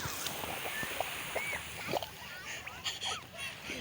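Muffled beach water sloshes and splashes around a phone filming underwater, with faint bubbling and gurgling and distant indistinct voices.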